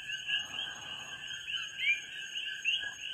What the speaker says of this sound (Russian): можно выдержать, как релакс, там, да, вот этот кваканье, вот этот кваканье